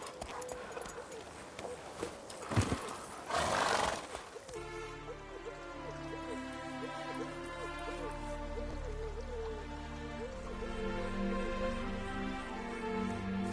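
A horse in The Witcher 3 video game gallops with steady clip-clop hoofbeats over a bed of game music, after a short burst of louder noise and voice at the start.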